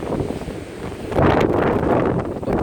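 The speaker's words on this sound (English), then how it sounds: "I don't know if you could hear me because of the wind." Gusting wind buffets the microphone on a blustery day by a bay, a steady low roar that swells louder midway and keeps rumbling with no voices.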